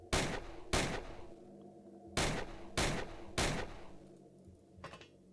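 Five sharp weapon shots ring out in the turn-based X-Piratez game, loud and close, in two bursts: two quick shots, a pause, then three evenly spaced.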